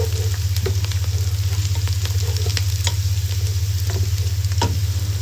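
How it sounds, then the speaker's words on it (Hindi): Onion and garam masala frying in oil in a degchi pot give a steady, loud sizzle over a low hum, with occasional light clicks from stirring. "हमने एक देगची के अंदर ऑयल शामिल किया है और प्याज था वो डाल दिया। उसी के साथ हमने डाल दिया गरम मसाला"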